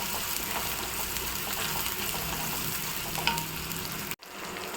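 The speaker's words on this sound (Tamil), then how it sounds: "வெங்காயம் நல்லா வதங்கணும். பொன்னிறமாக வதங்கணும்." Onions sauté in a hot pan toward golden for a poppy-seed powder kuzhambu, a steady close sizzle with faint stirring scrapes, cutting off abruptly near the end.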